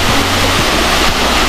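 Waterfall pouring among large boulders beside a pristine beach in Quezon Province, Philippines, a steady, loud broadband rush of falling water filling the whole stretch with no voices.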